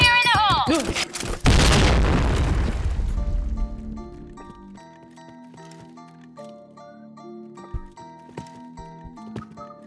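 A grenade blast in the shooter game Point Blank, one loud close boom whose rumbling tail fades over a few seconds, followed by faint game tones and clicks.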